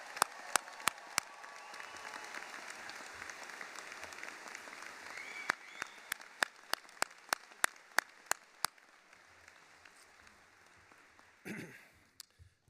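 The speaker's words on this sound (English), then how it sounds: "A round of applause for the class of 2023." A crowd at a veterinary graduation ceremony applauds steadily for several seconds, with a few sharp loud claps standing out before the clapping fades.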